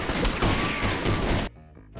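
Gunfire from the film Black Dynamite comes as a loud, dense burst of rapid shots that runs for about a second and a half, then cuts off sharply into quieter background sound.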